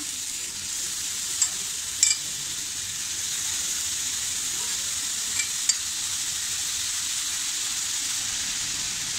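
Washed dried prawns (javla) sizzle steadily in a hot pan over a medium gas flame. A loud, even frying hiss runs throughout, broken by a few faint clicks from stirring.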